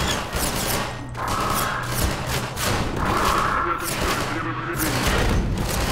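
In the video game Half-Life 2, a powered-up gravity gun fires repeatedly, producing a rapid series of forceful blasts mixed with heavy thuds and scraping impacts.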